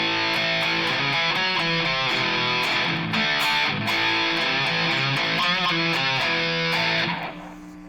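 Electric guitar played through a modern distortion tone on the bridge pickup, a steady saturated riff of chugging chords and single notes running for several seconds at even loudness, then cutting off and fading, with no talk.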